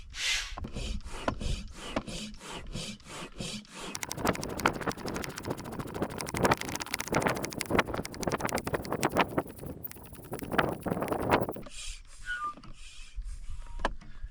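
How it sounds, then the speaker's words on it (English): A hand pump inflates a stand-up paddleboard in a rapid, rhythmic series of close, rubbing, whooshing strokes that run on steadily before stopping abruptly, with a few quieter strokes trailing after. "get that pump going"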